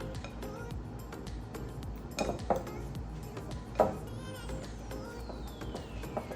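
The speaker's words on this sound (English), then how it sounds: "I'm going to just chop it up a little bit and let it melt down." A utensil chops butter in a warm pot. Scattered metallic clinks and scrapes sound against the cookware over a soft background hum, with a couple of louder knocks.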